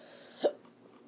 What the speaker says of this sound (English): I got the hiccups all of a sudden